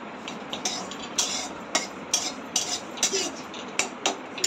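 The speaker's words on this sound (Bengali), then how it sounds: "আমি কড়া বসিয়ে দিয়েছি, তাতে শুকনো লঙ্কা, কিছুটা শুকনো জিরে আর একটু মৌরি" Dried chillies, cumin and fennel seeds dry-roasting in a wok, with a steady faint crackle and repeated sharp scraping clicks of a spatula against the metal at an irregular pace, close by.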